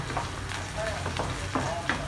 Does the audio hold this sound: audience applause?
no